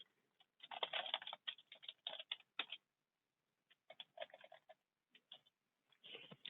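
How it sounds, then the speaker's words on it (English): Quick bursts of keyboard typing, clattering keys in clusters with short pauses between, close and fairly quiet. "begin by typing Earned Income"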